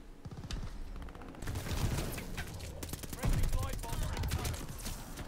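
Gunfire in Call of Duty: Vanguard, with rapid rattling bursts and steady automatic fire mixed with game noise and people talking over it.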